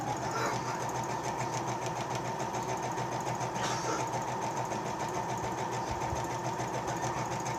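A sewing machine back stitches on a homemade boot suitcase, running in a loud, continuous, rapid mechanical chatter with a steady hum and no pauses.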